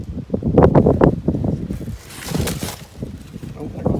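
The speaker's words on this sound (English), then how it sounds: "there goes the wind taking everything" Gusty outdoor wind buffets the microphone in a garage or driveway while parts are being unboxed, rising and falling in loud rumbling surges with brief breathy bursts, under and between someone talking.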